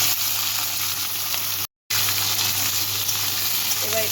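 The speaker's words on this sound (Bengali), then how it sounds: "এবার আমি এর মধ্যে দিচ্ছি ভেজিসগুলো।" Chopped vegetables and garlic fry in a hot pan for chili garlic chicken, giving a loud, even sizzle that stops briefly for a moment of silence and then carries on.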